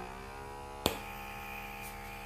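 A handheld vacuum-suction blackhead remover runs with a steady electric hum and whine, close and even, with one sharp click partway through and no talking.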